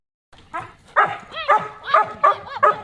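Dogs barking nearby in a quick series of five or six high yips and whiny barks, fairly loud and close.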